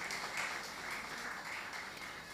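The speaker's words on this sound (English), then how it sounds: "One more time, ladies and gentlemen, a round of applause as Ms. Zawoshka takes her seat." A dinner and induction ceremony audience applauds steadily, a dense, even wash of clapping that holds at the same level throughout with no voices over it.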